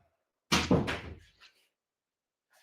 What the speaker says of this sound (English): Oh, let me close my door.